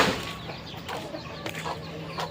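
Chickens inside a chicken coop give soft, scattered clucks and brief calls at close range, with a faint rustle that may be flapping, and no talking.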